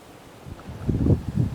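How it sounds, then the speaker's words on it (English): Wind buffets a Hollyland LARK M1 wireless lapel microphone outdoors by a marina, a soft low rumble that swells into louder gusty thumps over the second half. "Yes, it's pretty windy."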